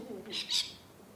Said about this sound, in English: that's the birds responding to the horn